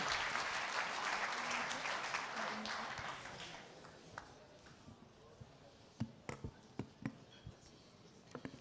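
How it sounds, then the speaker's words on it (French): At an awards gala, an audience applauds prize winners in a dense burst of clapping that fades after about four seconds, leaving a few scattered, close individual claps and quiet murmuring. "bravo Gilles, bravo Laurent, on peut encore vous applaudir"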